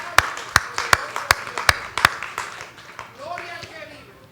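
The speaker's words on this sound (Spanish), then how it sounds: "Den un aplauso, Señor." A church congregation claps during a worship service, a handful of sharp, evenly spaced claps that fade into scattered softer ones as people keep talking underneath.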